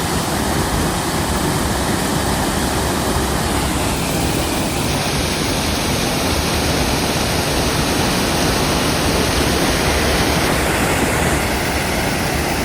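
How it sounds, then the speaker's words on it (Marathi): Waterfall at Malgund roaring as a dense, unbroken broadband rush of falling water, loud and close throughout, with no voices audible. "आणि हा आहे तो धबधबा."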